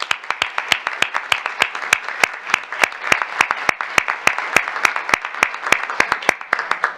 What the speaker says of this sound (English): Please help me give this performing group a round of applause.